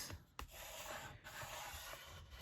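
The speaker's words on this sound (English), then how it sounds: "I'm using Lindsay's burnishing tool to score this" A burnishing tool is drawn firmly along a score line on paper for a junk journal, making a close, dry scraping rub in several steady strokes with a brief pause.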